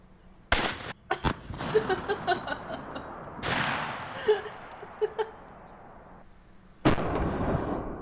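Tank cannon fire in a video game, with a loud booming blast at the start, several sharper bangs and pops in the middle, and another heavy blast near the end, all over a rumbling battlefield background.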